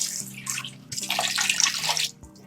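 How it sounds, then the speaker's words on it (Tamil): Water pours steadily into a pot of seeraga samba rice and chicken for Thalapakattu chicken biryani, a close, splashing gush in two bursts with a short break between them and no talk. "இப்போ நான் வந்து 5 கிளாஸ் தண்ணி ஊற்ற போகிறேன்."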